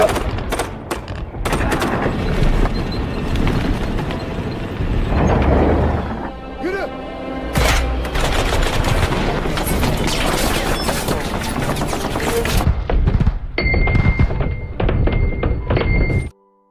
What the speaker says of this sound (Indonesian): Kemudian mereka menembaki pasukan ISIS yang masih selamat dari ledakan itu.